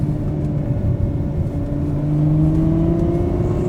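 A Ferrari sports car engine revving, a loud close growl whose pitch climbs smoothly and steadily over a few seconds, with no voices.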